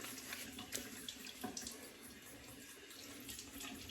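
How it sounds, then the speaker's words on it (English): Water runs steadily from a tap to add to shaving lather, a constant faint splashing stream with small irregular spatters, heard alone without talk. "I'm gonna add a little water to this lather."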